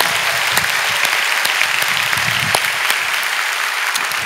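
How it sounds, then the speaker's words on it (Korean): A church congregation at a Friday night service claps together for the middle school group, a dense, steady burst of many hands sustained throughout without voices on top. "우리 저 위에 중등부를 위해서 우리 박수 한번 칩시다."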